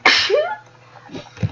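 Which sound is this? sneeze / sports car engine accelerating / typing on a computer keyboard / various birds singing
sneeze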